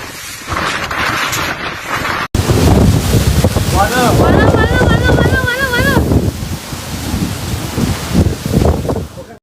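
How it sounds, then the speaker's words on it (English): Typhoon Kong-Rey gusts lashing coastal Taiwan: loud, roaring wind buffets the microphone almost continuously, broken by a brief cut early on, with wavering tonal sounds drifting through the middle. "Coastal areas experienced the brunt of the typhoon's force, with gusts reaching speeds similar to a Category 3 hurricane"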